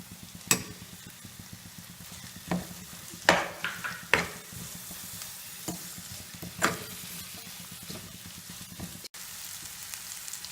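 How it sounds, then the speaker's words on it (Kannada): Capsicum frying with ginger and garlic in oil in a pan, a quiet steady sizzle with occasional sharper scrapes and clicks of stirring, no one talking. "ಕ್ಯಾಪ್ಸಿಕಮ್ ಹಾಕೊಂಡ್ಮೇಲೆ ನೋಡಿ, ಈ ಥರ ಎಣ್ಣೆ ಬಿಡಬೇಕು, ಅಲ್ಲಿವರೆಗೂ ಫ್ರೈ ಮಾಡಿ"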